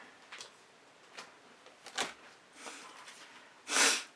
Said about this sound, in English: Excuse my sniffing.